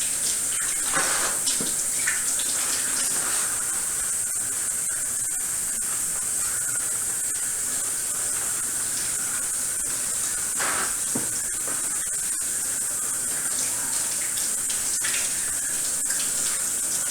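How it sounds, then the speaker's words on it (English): Steady rushing of tap water pouring continuously into a sink, a constant bright hiss with faint splashes as hands move under it. "we're going to run them under the water and scrub them together"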